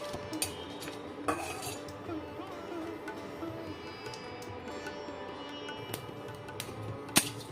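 Whole black peppercorns, cardamom and cloves are stirred in a dry pan, with a soft scraping rustle broken by sharp metallic clinks of a utensil against the pan at irregular moments.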